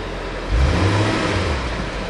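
A 2000 BMW M5 engine idles low and steady, then rises into a brief rev after half a second before settling back to a rough, rumbling idle; close and fairly loud, with no talking.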